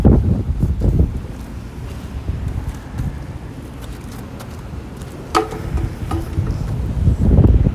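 Gusty outdoor wind buffets the microphone in heavy, rumbling surges that ease and build again, with a few faint rustles and clicks in the lulls.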